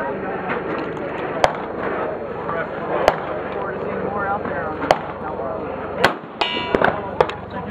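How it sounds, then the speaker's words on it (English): A Colt CM901 modular battle rifle fires several sharp, loud shots at irregular intervals, each a crisp crack standing out over a continuous outdoor background. "I'm going to shoot a left-hander with it."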